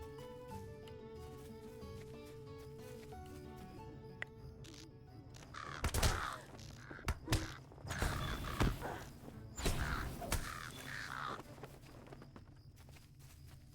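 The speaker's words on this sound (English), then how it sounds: "I heard them squawking." Harsh game bird squawks and caws ring out in bursts over a quiet background drone in a fantasy video game, with creaky, irregular calls clustering in the second half.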